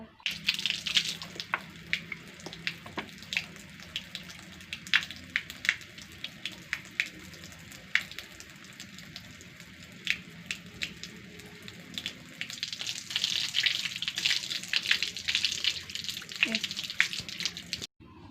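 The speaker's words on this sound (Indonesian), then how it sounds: "Sebelumnya saya izin cuci tangan terlebih dahulu ya Bu ya." Tap water runs steadily while hands are washed at a sink, a continuous hiss with splashes and clicks, growing louder toward the end, while a voice speaks faintly beneath it.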